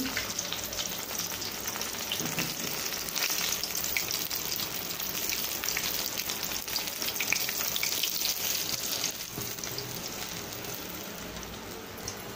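Chicken pieces frying in hot oil with a dense, steady crackling sizzle throughout, close and continuous, with faint scraping as pieces are lifted out.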